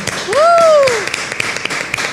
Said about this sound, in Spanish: aplauso al Señor.